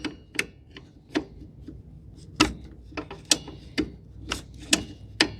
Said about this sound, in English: so I can get the wrench on there better